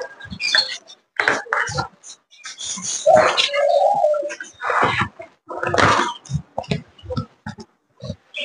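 Pigeons on a bird farm give soft, low cooing calls in short repeated bursts, close by, among rustling and scuffling sounds of the birds.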